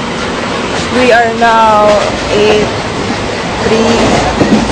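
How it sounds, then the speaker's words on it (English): Konark Express passenger train from Bhubaneswar to Mumbai in motion, heard from inside as a steady, loud rolling rumble while people talk close by. "This is the Konark Express, Bhubaneswar to Mumbai, 36 hours."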